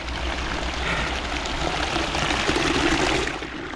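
Warm thermal spring water flows in a steady, close rushing trickle of moderate loudness, heard alone without talking.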